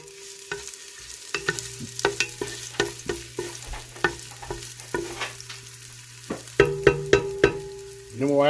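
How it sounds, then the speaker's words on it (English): Onions sizzle in hot oil for Southern collard greens, a steady fry broken by repeated clicks and scrapes of a spoon stirring against the pan, with a louder clatter near the end. "our oil is heated up. We will dump our onions in there."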